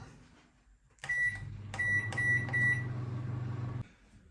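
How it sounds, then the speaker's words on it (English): A microwave oven hums steadily at close range while several high electronic beeps chime, then the low whir cuts off abruptly. "In the microwave for 2 minutes,"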